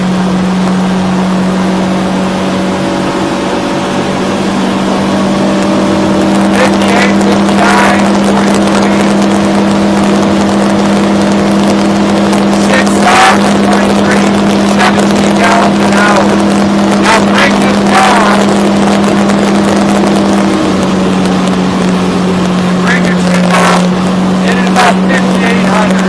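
A 2023 Stabicraft 2050 SuperCab boat with a Yamaha F175XA outboard under throttle, a loud steady engine drone whose pitch rises then settles, with water slapping and wind noise, heard from on board.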